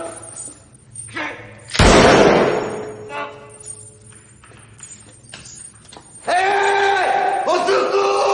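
A woman screams loudly in a French-language action movie about a kidnapping, a sharp burst of shouting over tense scene sounds with thuds, followed by more voices.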